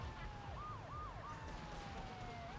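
A police car siren in GTA III wails in steady rising and falling sweeps over a low rumble of traffic and engine noise, moderately distant and fairly faint.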